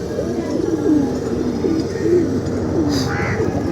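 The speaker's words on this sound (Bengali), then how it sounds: "নর কবুতরগুলো খুব সুন্দরভাবে ঝাঁপায় গোসল করতেছে" Male pigeons in a pigeon loft give repeated soft, throaty coos in a rolling rhythm, close and clear over a constant background hiss, with a short higher call near the end.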